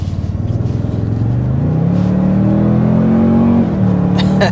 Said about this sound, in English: we're going to go ahead and start with the hard acceleration so you can see what this iForce Max powertrain is all